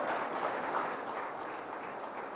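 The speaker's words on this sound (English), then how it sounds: "I think we should give him a big round of applause." Audience at a business convention gives a minister a dense, steady wash of applause, fairly loud and sustained without breaks or voices.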